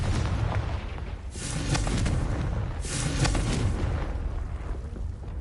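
A Confringo spell explosion in a Harry Potter video game, heard as a sustained, rumbling blast with booming swells that roll on for several seconds and fill the foreground at steady loudness.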